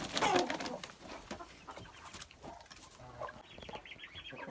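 Muscovy ducks squawk and cluck while being weighed, loudest at the start, then scattered flapping and bird calls, fairly close.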